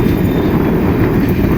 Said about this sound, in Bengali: আমাদের train SMD Bengaluru জোসিটি superfast express এখন ছেড়ে দিল পেরাম্বুর স্টেশন থেকে।